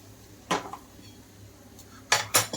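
A spoon stirs pounded spiced masala with asafoetida in a cooking pan, giving a few sharp metallic clinks and scrapes against a quiet background, two of them clustered near the end.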